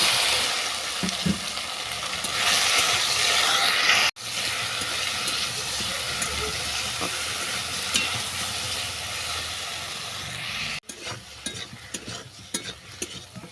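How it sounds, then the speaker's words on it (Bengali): Elephant apple (chalta) frying in hot oil over a tempering of dry red chillies and bay leaves, a continuous loud sizzle and hiss with stirring scrapes and a couple of short breaks. "ফোড়ন ভাজা তো হলো, এতে আমি চালতাটাকে তুলে দেবো।"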